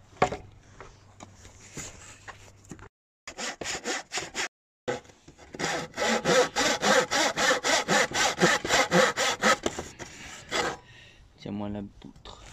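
A hand saw cuts through a wooden beam, starting with slow hesitant strokes and then settling into a steady, loud back-and-forth rhythm of rasping strokes, with brief pauses and a voice speaking near the start.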